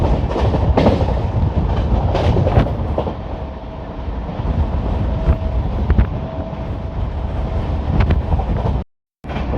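Hoshiarpur–Agra Cantt LHB express running at 130 km/h, heard from on board as a loud continuous rumble with rhythmic wheel clatter and wind rush, cut by a short dropout near the end.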